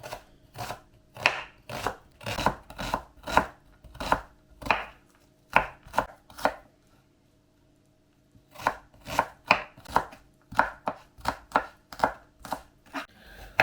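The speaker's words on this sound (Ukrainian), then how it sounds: "Цибулю або одну велику, або дві таких середніх, як у мене, також нарізаємо кубиком." Onions being diced into cubes with a knife on a cutting board, a steady run of sharp, close chopping strikes that pauses for a couple of seconds before resuming at a similar brisk rhythm.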